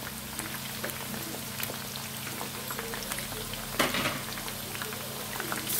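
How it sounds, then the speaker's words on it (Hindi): Chicken lollipops deep-frying in oil over a medium flame, a steady dense crackle and bubbling hiss holding at an even level, with a brief louder spatter near the end. "देखिए 5 से 7 मिनट हो गए मीडियम आंच पर फ्राई होते हुए।"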